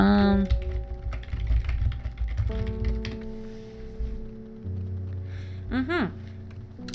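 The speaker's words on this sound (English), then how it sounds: "Sorry about the keyboard noise." Computer keyboard clicks rattle quickly and steadily, close and fairly loud, under game music with tonal chimes and a rising melodic flourish near the end.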